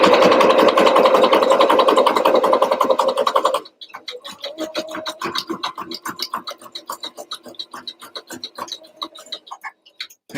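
Sewing machine stitches a paperback journal, first as a dense continuous whir for about three and a half seconds, then as a quick, steady run of sharp rhythmic ticks with brief pauses, close and moderately loud with no talking.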